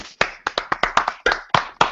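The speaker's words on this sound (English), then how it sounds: "How about a round of applause?" A few people clap in an uneven, sparse patter of about a dozen sharp claps, close and distinct with gaps between them.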